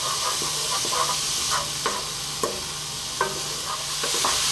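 Onions dry-cooking in a pan for an Ethiopian egg breakfast, with a steady hiss and occasional light scrapes of a spoon pushing them around, close and even, with no voices.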